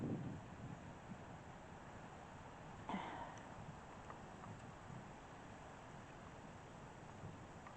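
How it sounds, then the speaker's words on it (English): Wind blows outdoors as a faint, steady rush buffeting the microphone, with a few soft gusts and a brief bump near the middle. No one speaks. "I know the wind's blowing"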